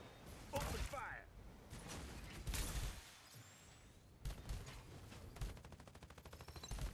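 Gunfire rattles through a busy battle royale match in Farlight 84, mixing thumps and whooshes with a fast, steady burst of automatic fire near the end, while game voices call out over the action.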